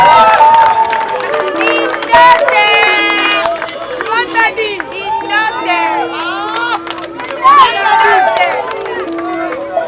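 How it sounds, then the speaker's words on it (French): At a sports event award ceremony a crowd cheers for a prize winner, with loud shouting and whooping voices overlapping continuously and nearby voices standing out above the mass. "Acclamons tous ensemble Linda."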